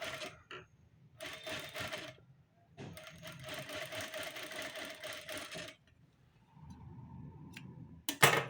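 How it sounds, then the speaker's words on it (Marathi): Sewing machine stitching a double seam along a blouse katori joint, running in several bursts of steady mechanical whirring separated by pauses, close and clear with no talk. "तर आता आपण डबल टिपा मारून घेऊयात ह्याला पण आपण डबल टिप मारून घेऊयात"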